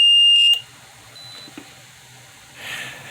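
A JLD404 panel meter's low-voltage alarm sounds in short bursts, a strong high tone at the start and a brighter burst near the end, with quiet gaps and faint background hum between.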